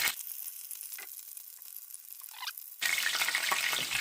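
Hamburger tacos fry in hot oil until crispy, a steady close sizzle that swells into a louder, denser crackle partway through.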